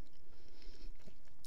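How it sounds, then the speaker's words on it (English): Crunchy bacon is chewed close up, with brief moist crunches and mouth sounds over a steady low background, no talking. "oh, that was a crunchy bacon. I thought I chipped a tooth."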